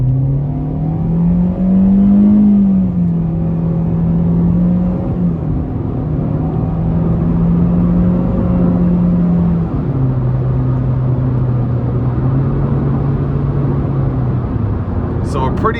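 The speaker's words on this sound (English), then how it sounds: "So a pretty interesting sound getting up to speed here with the CVT." A 2022 Chevrolet Spark 1LT with a CVT pulling hard at full throttle, heard from inside as a sustained droning engine note that holds nearly constant pitch with small drifts, under steady road rumble for about fifteen seconds.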